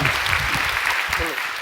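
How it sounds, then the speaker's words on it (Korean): A burst of warm applause from a church congregation at a Sunday worship special lecture, dense steady clapping through the whole short stretch, with low murmur underneath. "뜨거운 박수로 환영해 주시기 바랍니다"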